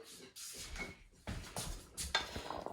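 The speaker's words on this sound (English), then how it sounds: "Stir this bad boy up" A spoon stirring food in a cooking pot, giving soft scraping and clinking sounds in short irregular strokes, close and quiet.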